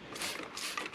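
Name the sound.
spraying cleaning solution from a spray bottle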